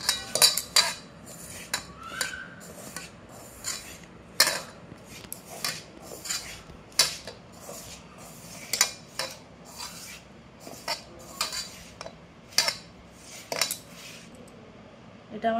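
A spoon scrapes and clinks against a bowl while raw chicken is mixed with salt and chili powder by hand for chicken satay, giving irregular metallic taps and rubbing at close range.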